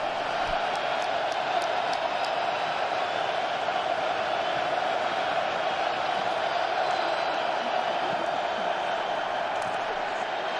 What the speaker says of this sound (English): Crowd loud, 4th and 4.